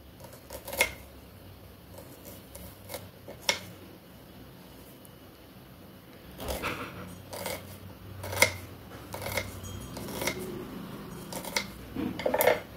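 A knife thinly slices large onions crosswise on a board for vegetable biryani, giving irregular soft taps and crunchy cuts, close by and fairly quiet, clustered in short bursts.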